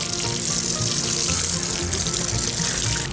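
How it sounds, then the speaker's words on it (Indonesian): Water splashes and pours steadily onto potting medium in pots, a continuous broad hiss of liquid being sprinkled before garlic is planted, close and fairly loud with no talking. "sebelum penanaman kita siram dulu"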